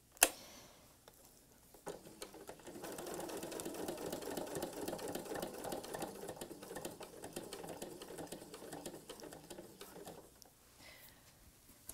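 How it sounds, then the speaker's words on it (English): A sewing machine stitches slowly along a fabric edge while making a patriotic cathedral window pillow, giving a soft, steady ticking run of needle strokes that starts after a brief pause and continues for several seconds, quiet and close. "I want to be very accurate, sewing right along that edge"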